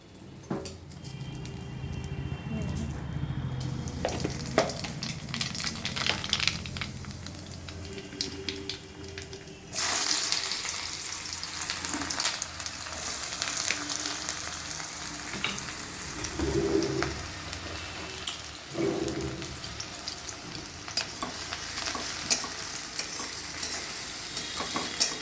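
Onion and nigella seeds fry in oil for a bitter gourd and potato curry, with a sustained sizzle and occasional stirring scrapes and clatters. Birds call faintly in the background.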